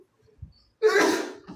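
A single close, sharp human sneeze bursts out after a quiet intake of breath, loud and brief, during a dinner gathering.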